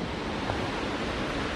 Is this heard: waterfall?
yes